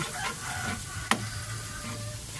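Garlic frying in a pan makes a soft, steady sizzle, with one sharp utensil click partway through and no voices.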